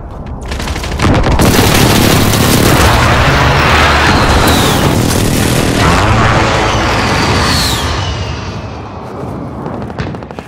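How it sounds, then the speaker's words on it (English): Airstrike explosions thunder in the video game Call of Duty: Modern Warfare, a loud continuous barrage of booms and rapid gunfire that swells early and rumbles on for several seconds before tapering. "Be advised, friendly precision airstrike inbound."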